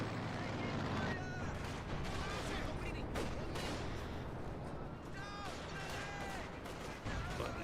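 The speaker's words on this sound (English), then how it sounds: "ML20 is bombarding." Soviet ML-20 howitzer shells pounding the battlefield in Company of Heroes, with repeated booming impacts and rumbling blasts coming in bursts beneath ongoing talk.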